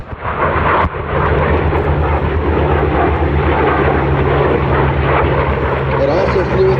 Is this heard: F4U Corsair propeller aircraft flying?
yes